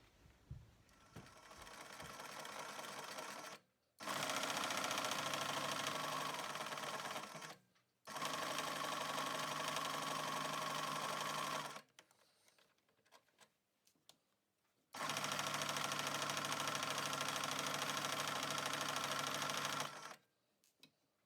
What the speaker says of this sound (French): Et on va venir coudre au point droit, donc ici et ici, de façon à avoir notre ouverture.